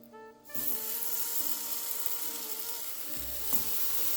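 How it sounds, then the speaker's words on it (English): Pears drop into hot avocado oil in a skillet and sear with a loud, continuous sizzle that starts abruptly and holds steady, with a faint clatter near the end. "To our skillet, we are going to add some avocado oil and add in our pears."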